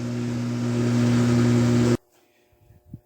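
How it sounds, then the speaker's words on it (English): A Frigidaire washing machine goes into its spin cycle with a loud, steady motor whir that cuts off abruptly, leaving near silence broken by a few soft knocks. "It's going to go into spin cycle"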